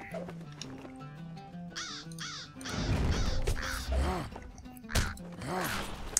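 Crows cawing in the fantasy online game LOTRO, several harsh rising caws repeated against a background of game music and ambient noise.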